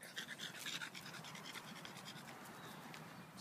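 A show dog pants rapidly and steadily at close range while out on a walk, with faint scratchy rustling mixed in and no talking.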